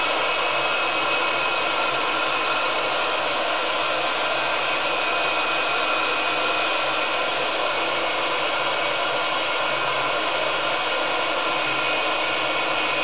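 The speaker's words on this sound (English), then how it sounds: "I'm going to give this a bit of a blast and hope this just dries it off a bit" A heat blower roars steadily while drying a craft project, a loud constant airy whoosh with an even hum that holds unchanged throughout, close up with no other sounds.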